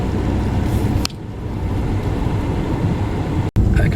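Car travelling in second gear on a German motorway where four lanes narrow to two, giving a steady loud low engine and road rumble inside the cabin, with a brief dip near the end.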